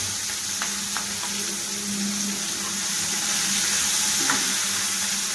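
Native broad beans (chikkudukaya) fry with onions in a pan, giving a steady, close sizzle with a few soft clinks from stirring and no talking.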